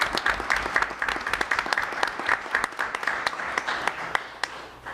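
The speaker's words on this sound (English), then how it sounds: "I think you deserve a round of applause for all the work." Moderate applause fills a city council chamber, a small group clapping unevenly with distinct individual hand claps over a low background rumble.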